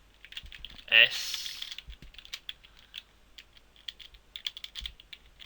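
Someone types on a computer keyboard while working in a Unity 3D tutorial, with quick, uneven clicks of the keys running through the whole stretch, a brief louder burst near the start, and occasional speech.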